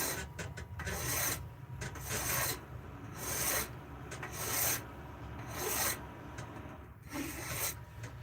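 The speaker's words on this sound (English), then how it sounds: "this little rasp takes off just a little bit at a time, but just enough to kind of straighten it out." A small rasp files a forged spoon with steady back-and-forth strokes in a regular rhythm, close and moderately loud, with no voices.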